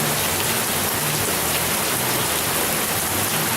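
Heavy rain from Tropical Storm Andrea falls in a dense, steady hiss close to the microphone, loud and unbroken throughout with no voices.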